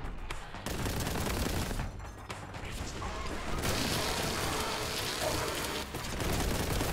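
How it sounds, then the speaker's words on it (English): Grenade blast and heavy gunfire in Warhammer: Boltgun, a dense, continuous roar of explosions and shots filling the whole stretch with brief dips. "That was a terrible grenade."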